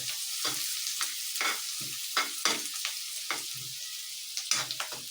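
Mung beans and onion frying in a pan with a steady sizzle, broken by repeated scraping stirs of a spoon against the pan, close and clear with no talk.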